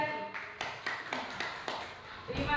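Classroom clapping for a teacher, a short run of distinct, spaced hand claps at moderate volume, with a voice heard faintly at the start.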